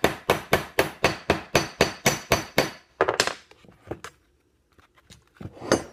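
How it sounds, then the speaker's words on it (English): A ball peen hammer tightens steel rivets on a metal strip for a bracer, striking about eleven sharp, evenly spaced blows close up. A few scattered lighter taps follow, then a short pause before one more strike at the end. "The center one could go a little tighter, so more ball peen."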